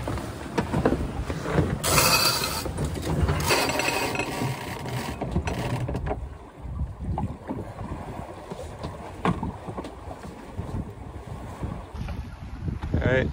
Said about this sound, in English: That squall is probably the reason that the wind is shifting now